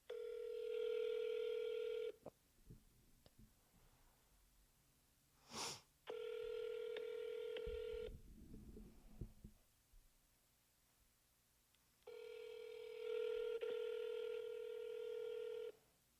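Outbound calls from a real estate cold-calling dialer to expired and terminated listings: three long steady ringback tones separated by gaps, with a short tone blip and some low rustling in between, no speech.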